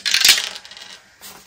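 Dice tumbling and clattering onto a surface, one quick rattling burst that fades into a softer roll, then a faint second tap near the end, close and fairly loud.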